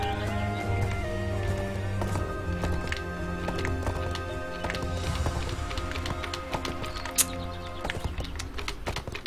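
A horse gallops across uneven ground in the online game ArcheAge, its hooves clip-clopping rapidly and steadily up close, with occasional taps and game effects over a background music bed.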